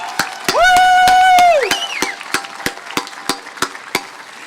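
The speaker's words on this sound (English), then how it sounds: "Let's just give them all another big round of applause." Outdoor Vietnam Veterans Day gathering in New York City, with a loud whooping cheer over a crowd, then scattered sharp claps that thin into a few isolated, evenly spaced ones.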